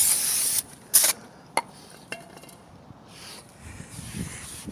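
A can of brake cleaner hisses out for about half a second during front brake work on a 2004 Buick LeSabre, followed by a few short sharp spurts and soft shop-towel wiping or handling noises nearby.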